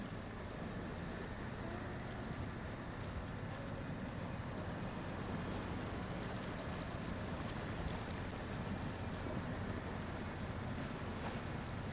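A truck pushes through deep water in the SnowRunner video game, a steady, faint wash of churning water and engine rumble with no talk.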